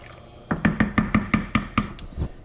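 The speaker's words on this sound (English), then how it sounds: "Toss those in. Give it a stir." A spoon stirring split pea soup with whole bay leaves in a cooking pot, about nine quick, evenly spaced knocks and scrapes against the pot, close and fairly loud.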